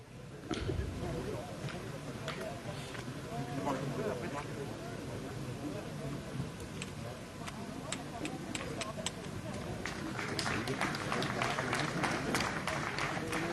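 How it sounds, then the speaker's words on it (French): Spectators at an outdoor pétanque tournament applaud with scattered clapping that swells toward the end, heard under a commentator's steady talk. "Alors les spectateurs applaudissent là-bas."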